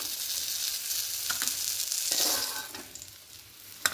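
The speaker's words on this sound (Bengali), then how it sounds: "এদিকটা লাল লাল করে ভেজে লাল করে ভাজা হয়ে গেছে" Pieces of katla fish frying in hot oil in a pan, a steady bright sizzle throughout with a few louder spits and crackles as the fish is turned, close up and with no voices.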